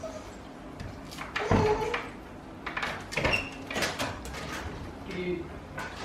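A locked door is tried: a few dull clunks and rattles of the handle and frame, one sharper knock near the middle, with voices talking around it indoors.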